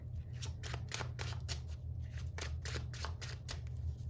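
Tarot cards being shuffled and pulled, a quick series of crisp papery riffles and flicks repeating about twice a second, close and fairly clear over a low background hum.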